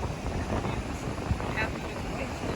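Wind buffets the microphone in a steady rushing roar on a Texas beach campsite, with faint voices and a few soft knocks underneath.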